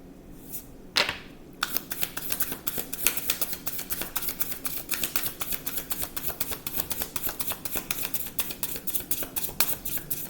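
Tarot cards being shuffled by hand, a steady run of quick soft flicks and riffles close up, continuous for several seconds after a brief pause, with no talk.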